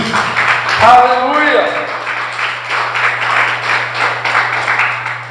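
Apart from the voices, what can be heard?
congregation applause in church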